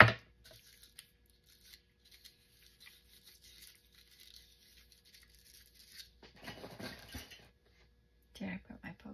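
Scissors cutting through a sheet of mixed-media paper at a craft table, quiet snips and scrapes that grow busier toward the end, close-up and faint with no talking.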